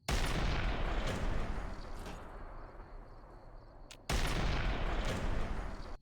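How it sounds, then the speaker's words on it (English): Artillery fire in Fallout New Vegas, aimed at Boomtown. Two loud booming blasts arrive a few seconds apart, and each one rolls into a long, fading rumble. "So we fire this artillery over at Boomtown."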